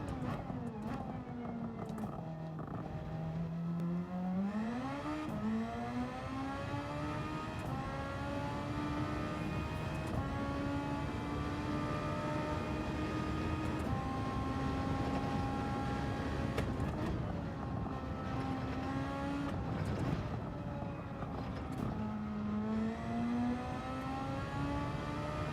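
An SF23 Super Formula car in Gran Turismo 7 lapping Suzuka, its engine note sustained and loud, climbing and dropping through revs and gear changes with a high whining tone throughout.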